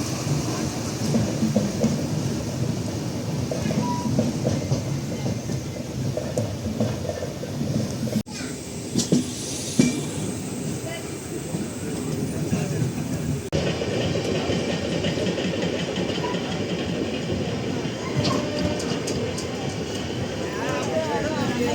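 A Cuddalore–Mysore Express passenger train is under way, with a steady, loud low rumble of running wheels and carriage noise that continues throughout, while people talk over it.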